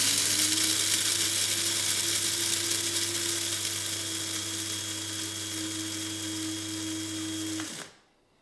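Coffee beans for a French press, an Ethiopian roast, ground in an electric grinder: a steady, loud whirring buzz with a constant hum that runs unbroken for about eight seconds, then cuts off abruptly.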